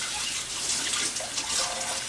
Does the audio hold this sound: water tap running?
yes